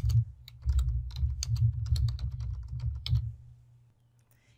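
A computer keyboard clacks with quick, uneven keystrokes for about three seconds while a name is typed into a Word 2016 document, then the typing trails off into quiet.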